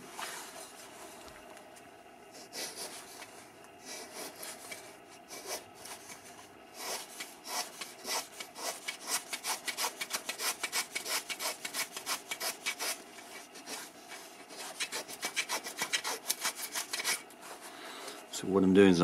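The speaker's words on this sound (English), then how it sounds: "I'm gonna take a block plane and just real quick shave a lot off of that area" A block plane shaves a wooden guitar soundboard brace in rapid repeated rasping strokes, quiet at first and then growing steadier and louder, with a short louder knock at the end.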